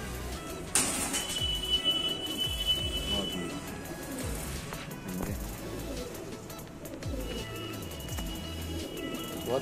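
Pigeons cooing at a loft of purple-headed Kalsira pigeons in Sambhal, India, a soft steady murmur of coos with a sharp high chirp near the start, set amid background noise.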